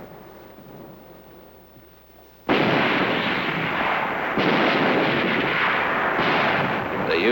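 Tanks pressed into service as an artillery battery in the Korean War fire a heavy, sustained roar of blasts that begins abruptly after a quieter stretch and stays loud and continuous to the end, with no talk.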